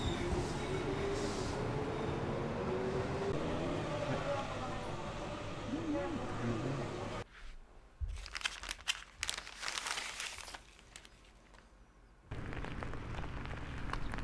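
A train ride in Kyoto, Japan: a steady rumbling cabin roar with faint squeals, then a sudden drop to quieter rustling and crinkling near the mic before the rolling rumble returns; faint speech mixes in.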